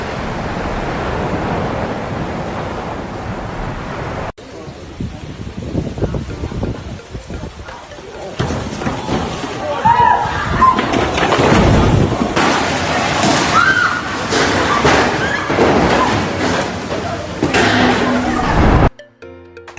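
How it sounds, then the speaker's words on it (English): Loud, roaring surf and crashing seawater churn continuously around a boat battered by a massive wave, with wind noise and abrupt cuts between shots. "The boat was destroyed by the massive wave"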